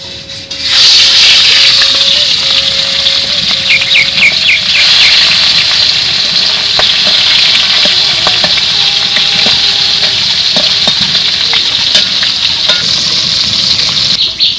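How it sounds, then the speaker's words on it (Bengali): Fish heads crackle and sizzle steadily in hot oil for a Bengali masoor dal, a dense continuous frying hiss with scattered pops and faint clinks of utensils, close and loud throughout. "তেল গরম হয়ে গেছে এখন আমি মাছের মাথাগুলো দিয়ে দেব"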